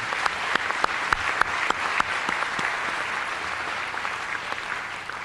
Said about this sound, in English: Let's give them a round of applause for this event.